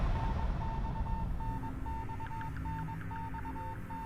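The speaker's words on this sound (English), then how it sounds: "The beeping becomes gradually louder," Steady Morse-code-like beeping at a single pitch from a Death Mark video game, short and long tones repeating over low background ambience, moderately quiet with no talking.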